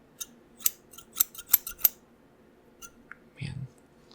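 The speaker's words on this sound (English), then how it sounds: "these scissors kind of act up a little bit" Close barber scissors snip hair in a run of sharp, crisp clicks, then a brief pause and a soft low rustle near the end.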